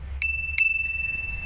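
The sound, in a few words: bell on a 48V Eco Drive 2.0 e-bike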